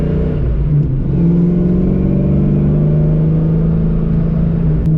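A car with a Ford 302 V8 accelerates hard under load, its engine droning loud and steady from inside the vehicle, the pitch rising gradually over the stretch with no speech.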